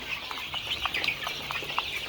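Chickens on a Bangladeshi poultry farm squabble over freshly scattered feed, giving a steady, close stream of overlapping clucks and short sharp squawks with no pauses.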